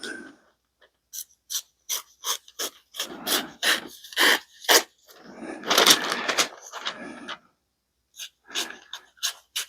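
A folding knife blade tears and rasps through paper in short, scratchy strokes, close and fairly loud, with brief pauses between bursts.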